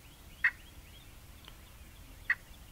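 Wild turkey gobbling at dawn during a spring turkey hunt: two short, faint gobbles about two seconds apart, heard from a distance over quiet morning background.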